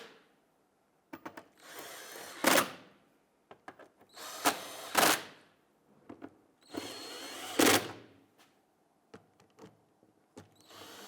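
An electric power tool snugs down the rear lower control arm bolts on a 2011–2023 Dodge Charger in repeated loud bursts of a few seconds each, with short ratcheting clicks and metal handling between them. No talking is heard.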